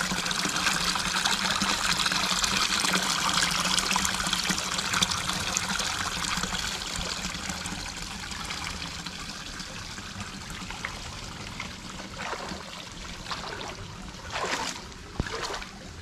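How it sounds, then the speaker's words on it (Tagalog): Water from a fish pond flows out into a river channel in a steady trickling, gushing stream, a close and constant wash of liquid, with a few sharper splashes toward the end and no talking. "May tubig pong lumalabas dito ah. Ito po'y galing sa fish pond."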